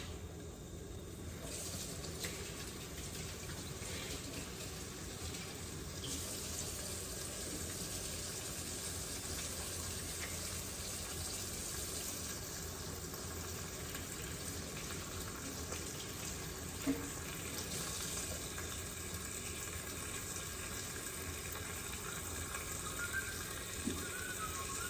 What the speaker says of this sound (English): I'm gonna wash them hands again.